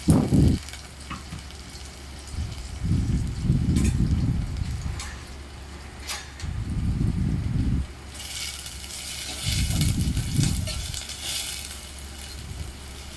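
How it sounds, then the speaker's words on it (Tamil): Onions and curry leaves sautéing in a pan after mustard seeds have popped, heard as repeated bursts of rough, rumbling stirring over a steady sizzling hiss, fairly close with no talking. "உடனே நம்ம வெங்காயம் அப்புறம் கருவேப்பிலை இது ரெண்டுத்தையும் போட்டு நல்லா வதக்கிக்கலாம்."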